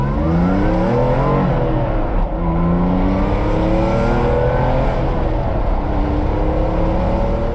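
A Porsche 911 engine drones close and steady throughout, with shifting revs as the car is driven, loud and alone with no talk.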